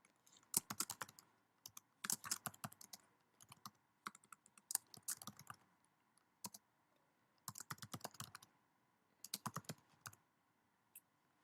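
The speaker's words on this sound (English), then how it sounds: "I am going to just start typing." Bursts of typing on a computer keyboard, quick clattering keystrokes in several separate runs with short pauses between them, fairly close and moderately loud.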